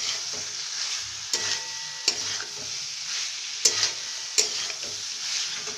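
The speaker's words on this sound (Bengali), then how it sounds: "ভালো করে মশলার সঙ্গে মাখিয়ে নিতে হবে।" Boiled soybeans are stirred into masala in a hot pan, giving a constant sizzle broken by several sharp scraping strokes of the spoon, close up with no talking.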